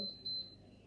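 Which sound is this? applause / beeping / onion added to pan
beeping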